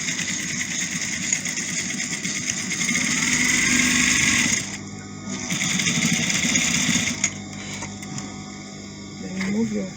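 Sewing machine running close by as a lock reverse stitch is sewn on African fabric, whirring in long bursts with a brief pause midway, with a voice talking underneath.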